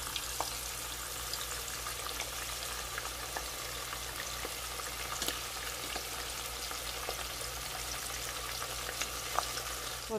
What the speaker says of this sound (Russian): Отправляем сюда следующую порцию жарится